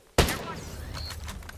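Gunfire in the first-person shooter Ghost Recon Frontline, one sharp loud burst that rings out and trails into echoing reverberation with fainter distant shots following.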